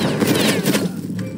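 Musket volleys in a Napoleonic-era video game line battle, a dense crackling fusillade of overlapping shots with booming low rumble, loud and continuous throughout.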